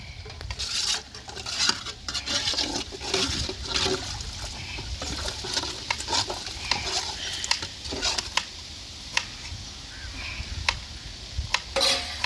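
Water heating to a boil in a cooking pot over an outdoor cooking fire, with a steady bubbling, sizzling wash and scattered clinks and scrapes of utensils against the pot throughout.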